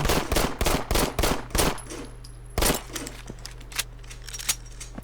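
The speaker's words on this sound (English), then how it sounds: "when you get to the last few bullets in your mag, your gun will start to click and make noise" A Fallout 4 gun fires a rapid burst of about six loud, closely spaced shots. A few sparse, fainter clicks and ticks follow as the magazine nears empty.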